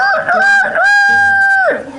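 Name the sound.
voice imitating a rooster crowing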